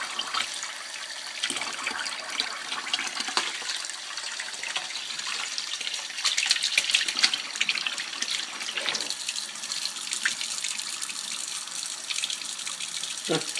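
Lukewarm water runs and splashes steadily into a mixing bowl for Lolland-style rye bread dough, a continuous close trickling pour that swells briefly partway through.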